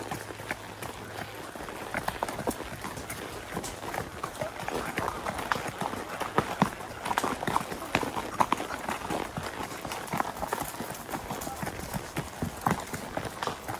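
A Friesian/Arabian cross horse trots outdoors, its hooves landing in a steady, rhythmic clip-clop close by for the whole stretch, with occasional talk in the background.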